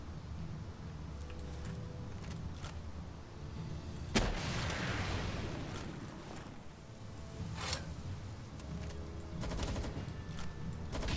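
Gunfire during a raid in Palworld: scattered shots and bursts of rapid fire over a constant rumbling background, with one sharp loud blast followed by a noisy wash, and further cracks spaced through the rest.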